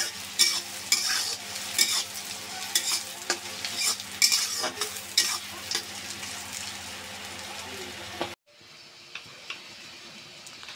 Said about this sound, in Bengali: দিলাম পেস্ট, আমি একটু নরম করে ভেজে নেব।